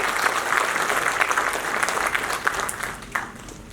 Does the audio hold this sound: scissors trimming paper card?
no